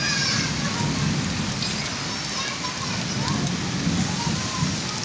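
Heavy rain pours down in a sudden downpour, a dense, loud, unbroken hiss and patter of drops striking surfaces, steady from start to finish with no pause.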